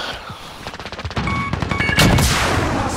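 Rapid automatic gunfire in a hardcore Call of Duty multiplayer match, a loud burst of close shots that grows into a heavier barrage with a sharp blast near the end.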